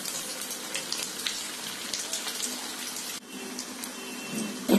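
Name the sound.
chicken kababs frying in hot oil in a pan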